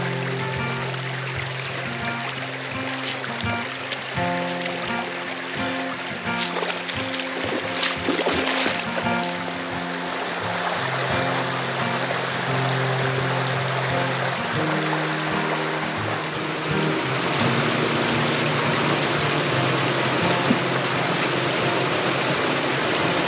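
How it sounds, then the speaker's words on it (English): Creek water rushes steadily at the confluence of Little Ugly and Eagle Creek in the Sipsey Wilderness, a constant broadband flow with a faint tonal hum layered beneath and no talk. "we're at the confluence of Little Ugly and Eagle Creek"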